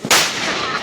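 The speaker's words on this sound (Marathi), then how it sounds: "जिकडं बघाल तिकडं फटाके नुसते." A Diwali firecracker bomb goes off close by, one sharp, loud blast followed by a lingering roar of noise.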